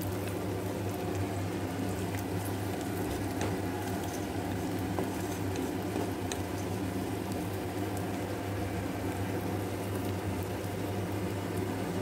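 Cashews and raisins frying in oil for potoler dolma, a steady close hiss and bubbling sizzle that holds evenly the whole time, with no voices.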